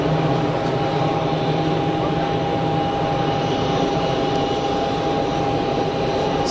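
An airliner on final approach to Geneva Airport gives a steady, loud jet engine drone with a persistent whine, continuous from start to finish.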